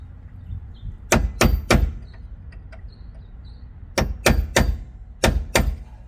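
A hammer strikes a steel punch while parts are fitted on a Subaru Forester STI's wheel and suspension, three groups of three sharp, loud metallic blows with short pauses between groups.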